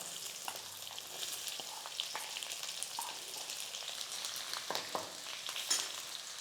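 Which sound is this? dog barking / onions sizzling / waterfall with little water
onions sizzling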